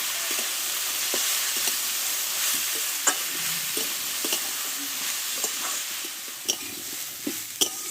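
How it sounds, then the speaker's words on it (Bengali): Ash gourd and mung dal sauté in a pan, a loud steady sizzle with scraping stirs and occasional sharp clicks of a spoon against the pan. "এবার একটু ভালো করে কষতে থাকবো"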